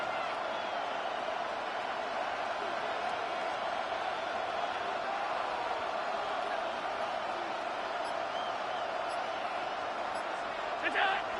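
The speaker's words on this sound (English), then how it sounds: "The crowd cranking it up another notch before 3rd and long." Football stadium crowd at a Jets vs Bills game roaring steadily and loudly, a continuous wash of cheering that holds level throughout with no break.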